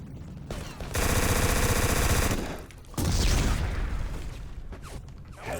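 Uzi submachine gun fire in the video game Black: a long, loud, rapid automatic burst, a short pause, then a second sustained burst with echoing tails.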